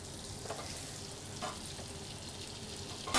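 Seasoned fish fillets sear skin side down in a hot pan, a steady close sizzle with a few soft clinks and bumps, no talking.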